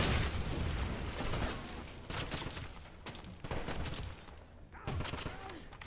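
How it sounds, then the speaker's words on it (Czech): Grenade blast in the shooter Wolfenstein, a loud burst followed by a dense fusillade of gunfire and booming impacts that recur in waves across the whole stretch, with no one speaking. "protože tam hodili granát"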